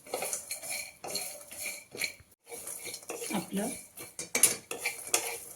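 Grated coconut, cumin and garlic being dry-roasted in a pan, heard mostly as a metal spatula scraping and clinking against the pan in uneven bursts, with a short spoken word in between.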